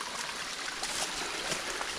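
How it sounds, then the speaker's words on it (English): A forest creek running strongly after rain, a steady, close rush of flowing water with faint gurgles, with no voices over it. "we had enough rain, I guess, that had this creek going pretty well"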